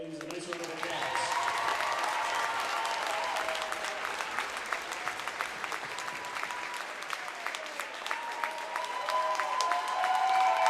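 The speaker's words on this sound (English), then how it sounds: "Let's give these young ladies a nice round of applause." Crowd at a Minnesota state high school wrestling tournament gives a long round of applause for female wrestlers, continuous massed clapping with murmuring voices, steady and building slightly at the end.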